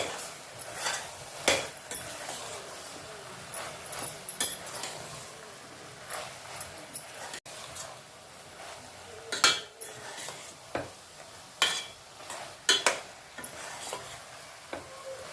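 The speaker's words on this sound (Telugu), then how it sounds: "రెండు స్పూన్లు కారం వేస్తున్నాను ఇప్పుడు మళ్ళీ బాగా కలిపేయాలి" A spoon scrapes and clinks against a pan while chili powder is stirred into frying eggplant, with irregular close metallic knocks over a faint sizzle and no talking.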